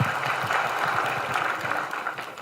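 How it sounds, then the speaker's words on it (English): An audience at an English speech contest applauds the judges, a steady sustained patter of many hands clapping that tapers slightly at the end. "Let's give all the judges a warm applause again."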